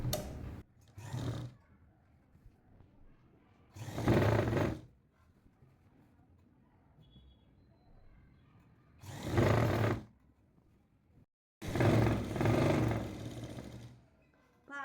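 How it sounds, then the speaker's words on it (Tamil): A sewing machine stitches the folded hem of a nighty in five short bursts, the longest a little over a second, separated by quiet pauses, close and moderately loud with no speech. "இப்போ சுற்றி நம்ம தைச்சிட்டு வந்துடலாம்"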